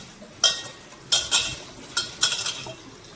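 Taro (kochu) leaves are washed in water in a home kitchen, with a few short bursts of splashing and rustling handling, close by, separated by quiet pauses.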